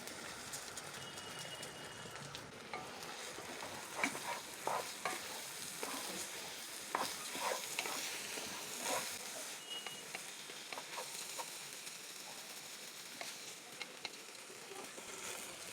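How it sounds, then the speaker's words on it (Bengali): Rice grains frying in a pot with chicken fat and a little oil for Bangladeshi morog polao, a steady hiss with soft scraping stirs and light clicks throughout, no talk. "এটা খুব ভালো করে ভেজে নিতে হবে"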